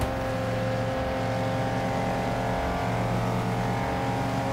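Race car engine in the video game Wreckfest, a steady, loud droning roar held at constant revs throughout, close and continuous with no talk over it.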